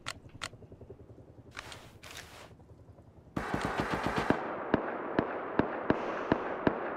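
Rapid gunfire sprays down from a helicopter in the survival video game Rust, loud sharp cracks in quick bursts and then spaced single shots, after a quieter stretch of scattered pops and rustling.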